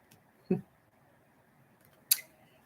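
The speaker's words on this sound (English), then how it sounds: "I'm going to go ahead and cut the cards into 3 piles" A deck of oracle cards is cut into three piles on a quiet table, with two short, distinct card slaps or shuffles about a second and a half apart against faint background.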